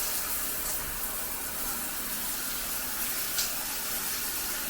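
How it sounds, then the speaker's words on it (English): A hotel shower runs at full pressure, a steady broadband hiss of spraying water that stays loud and even throughout with no voices over it. "Let's see the shower pressure."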